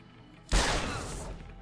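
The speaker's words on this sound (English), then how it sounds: "Gunshots!" A sudden loud burst of gunfire in the video game Deus Ex: Human Revolution erupts after a brief quiet, followed by a sustained rattling crash that fades out.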